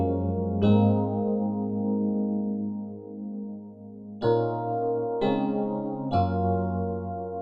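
Homemade EP electric piano patch from the Expand instrument plays sustained, warm chords on its own, with a long held chord followed by three quick restruck chords near the end, mellow and close.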